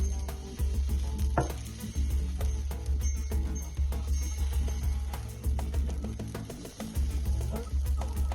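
Dosa batter sizzling on a hot tawa, a steady crackling hiss with repeated scraping and clinking of a ladle against the pan, close and continuous throughout.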